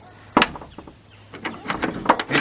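A 1970 Chevrolet Nova door swings shut on its own with a single sharp thunk, followed by softer rattles and a few clunks of the body settling, heard close up.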